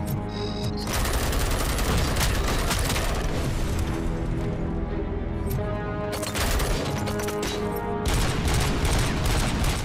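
Relentless automatic gunfire from Robocop: Rogue City pounds at fleeing bikes, loud and continuous with booming impacts, almost no voices.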